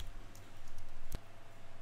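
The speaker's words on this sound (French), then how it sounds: "touche suppression sur le clavier" A single quiet click of a computer keyboard key, the delete key pressed during graphic design work, sounds once near the middle over a faint low hum.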